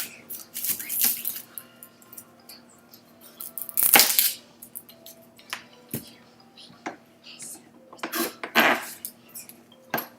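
A knife cutting onion on a board for pineapple salsa, irregular close chopping knocks and clinks of utensils with a few sharper clatters, spread across the clip with quiet gaps between.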